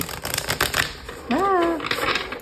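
Tarot cards are shuffled during a pick-a-card reading, giving quick papery riffles and flutters close by, followed by a person speaking.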